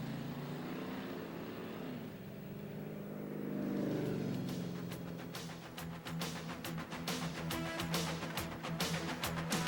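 A race car, Dominic Galli's recycler-sponsored car at Mosport International Speedway in 1994, drives its victory lap, engine droning and then revving hard in a rapid series of sharp bursts, loud and close throughout.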